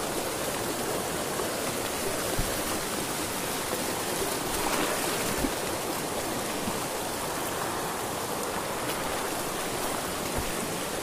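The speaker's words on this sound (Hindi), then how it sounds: "पानी भी बहुत तेज आ रहा है" A fast-flowing river being crossed on foot in a hilly area of Tedhasemar, producing a constant, dense rush of water that stays steady and fairly loud throughout, with no talk.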